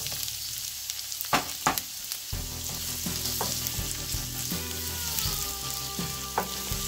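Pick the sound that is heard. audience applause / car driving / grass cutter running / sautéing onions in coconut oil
sautéing onions in coconut oil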